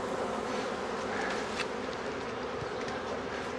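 Honeybees swarm around a hive entrance, making a steady, dense buzz with individual bees droning past now and then, faint but continuous, and no talking.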